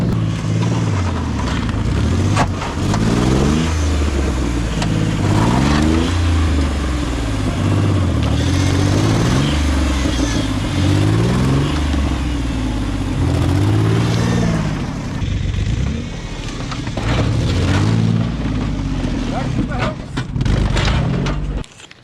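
A Nissan Pathfinder driven with no oil in the engine and a crushed oil pan, its mid-pitched engine droning loudly and steadily with repeated revving surges throughout, under occasional talk.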